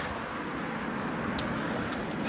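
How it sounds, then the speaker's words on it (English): Busy road traffic heard from the roadside during a walk, a steady broadband roar of passing vehicles with a couple of brief higher hiss bursts, continuous and fairly loud throughout. "I'm on the busiest traffic part of my walk right now."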